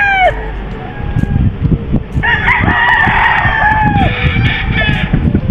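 A rooster crows loudly nearby, a long drawn-out call in the middle, with other birds chirping and a couple of shorter cries around it.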